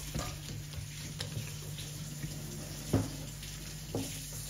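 Tap water running into a sink while a bracelet is washed in a kitchen, a low steady flow with a few clinks and splashes, fairly quiet throughout.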